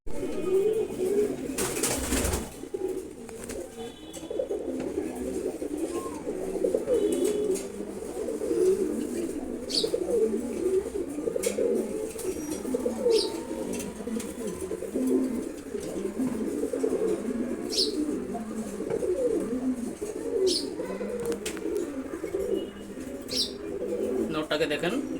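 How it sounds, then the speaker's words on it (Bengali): Steady, dense cooing of racer pigeons fills the clip, a continuous murmur of overlapping calls from several birds nearby, with faint higher chirps and one brief sharp flutter or bump early on. "এর নিচে আছে রেসার কবুতর, তার নিচে আছে হচ্ছে লাল।"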